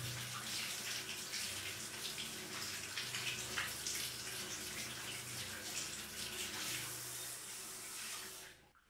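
Shower water pours in a steady hiss for the whole stretch, as the water is switched between hot and cold. The spray is close and constant, then cuts off abruptly at the end.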